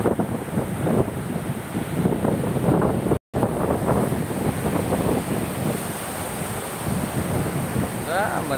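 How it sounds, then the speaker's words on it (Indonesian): Ocean waves wash onto Pantai Kasih beach in Sabang, a steady broadband surf roar with heavy wind buffeting the microphone, continuous and fairly loud with a brief dropout partway through. "akan coba mendekati ombaknya"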